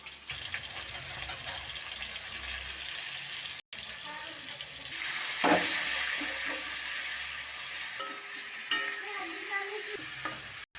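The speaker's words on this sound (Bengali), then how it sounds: "একটু ভালো করে কষাইয়ে সবজিটা" Mixed vegetables stir-fried in a pan with coriander, cumin, turmeric and chili, a steady scraping sizzle running throughout with brief gaps and occasional louder stirring scrapes, no voices.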